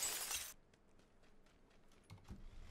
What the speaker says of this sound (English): So it breaks the window so you hear the sound.